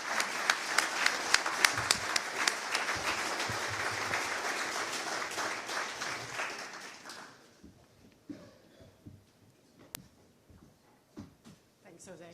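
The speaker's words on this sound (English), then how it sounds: "Please give a round of applause for her." An audience at a public safety forum applauds a television moderator, with dense clapping for about seven seconds that then thins into scattered claps, followed by a few quiet speaking voices.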